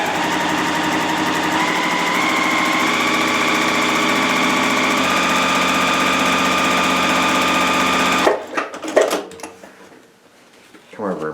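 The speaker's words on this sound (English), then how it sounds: "and I'm going to stitch." A sewing machine stitching a paper-pieced quilt runs with a steady, even mechanical whir for about eight seconds, then stops, followed by brief handling clatter and rustle close by.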